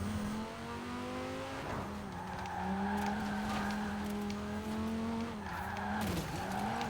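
The 2058 Quadra Turbo-R V-Tech in Forza Horizon 4 accelerates hard through repeated upshifts, its engine tone climbing and dropping with each gear. Tires squeal and skid now and then over steady road noise.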